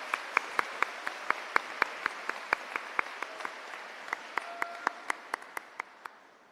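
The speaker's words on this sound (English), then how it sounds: "Can I get a round of applause for our lovely graduates" Graduates at a virtual graduation ceremony receive sparse applause: a few sharp, evenly spaced claps that ring out clearly and slowly thin toward the end, with no talk over them.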